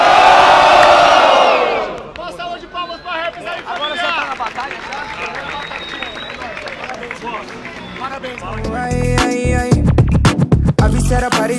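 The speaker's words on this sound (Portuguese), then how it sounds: "Barulho para Raps! Barulho para Bolt!" A crowd at a Brazilian freestyle rap battle erupts in loud cheering and whoops, dying into a crowd murmur and then swelling again, with rhythmic beat-like thumps near the end.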